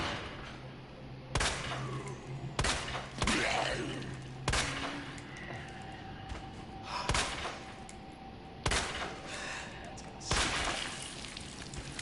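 Handgun fire in Resident Evil 2, heard as about seven sharp shots spaced a second or two apart, moderately loud over quiet game ambience and grunts.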